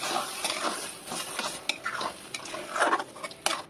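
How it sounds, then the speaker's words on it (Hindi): Carrots are stirred into thickened milk in a kadhai with a spoon, making close, irregular scraping and light metallic clinks over a few seconds. "अब हम इसको मिक्स कर लेंगे।"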